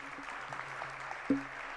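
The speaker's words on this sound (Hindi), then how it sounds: "जरा तालियां बजा दीजिएगा" Applause at a Jain religious discourse gathering with Sudha Sagar Ji Maharaj in Agra, a brief burst of steady audience clapping with a hum underneath and one sharper knock near the end.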